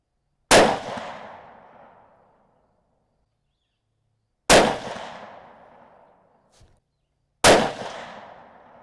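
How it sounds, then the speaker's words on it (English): Three loud, sharp rifle shots from a Ruger American in 6.5 Grendel firing Hornady Black 123 grain ammunition, each ringing out outdoors and decaying slowly, spaced several seconds apart with a faint click between the second and third. "so groups 3 and 4, we are shooting what's left of my Hornady Black"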